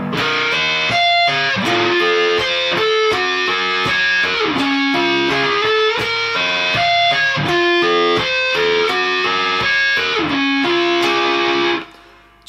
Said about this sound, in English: So for my sound today, I'm using a fuzz pedal, I'm using a Flatley Solaris.